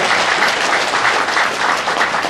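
Audience applause at a Korean book launch event, a dense, steady wash of many hands clapping throughout, loud and close with no voices over it.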